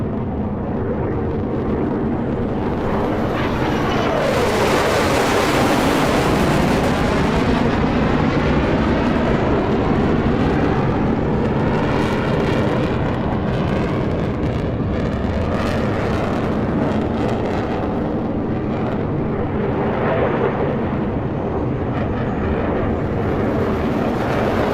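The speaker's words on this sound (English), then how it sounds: "As Captain Cross approaches the show center, he will light the afterburner and bank sharply" An F-35 jet in Roblox lights its afterburner for a close, very loud roar that holds steady throughout, with a sweeping rise and fall in tone as it passes, and no talking.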